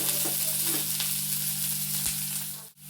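Onion, green chili and small coconut pieces sautéing in a pan for a coconut beef roast, a steady close sizzle with light stirring scrapes throughout and a brief dip near the end, no talk.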